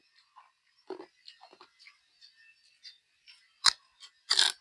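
Someone chews a spicy dish of pounded rice noodles up close, giving soft, sparse wet clicks and a couple of louder crunchy bites near the end, with no talking.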